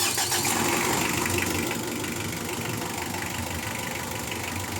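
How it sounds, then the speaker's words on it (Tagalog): A Mitsubishi Adventure engine starts, rumbling loudly and steadily, settling into a constant idle after a slightly rougher first second. "tapos pwede ko nang pa-start itong makina"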